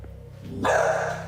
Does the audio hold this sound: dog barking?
yes